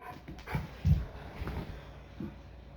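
Dog whimpering in short soft bursts during a home training session, with brief louder yips near the start and quieter whines trailing off, close and intimate with low background noise.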